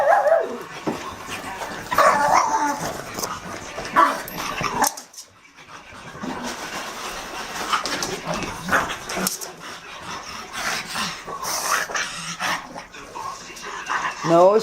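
A dog indoors during a snowstorm in Rochester, NY, giving scattered barks, yips and whimpers, mixed with people talking nearby.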